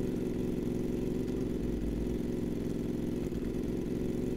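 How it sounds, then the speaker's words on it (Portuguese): A Harley-Davidson-style motorcycle engine in the demo game Cheyzade hums at a steady, low idle, loud and continuous throughout, with no voices over it. "O barulho dela é estilo Harley Davidson, né?"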